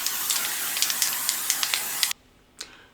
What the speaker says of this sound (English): So the last primer I'm gonna use is this primer spray from